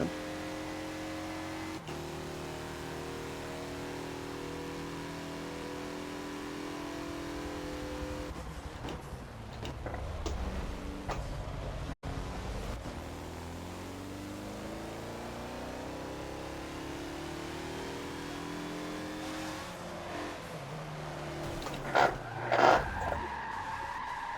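A 2014 Mazda Lola B12/80 race car at VIR in the Forza game brakes hard with its engine droning, and its tires skid and squeal loudly through the corner, with a short burst near the end.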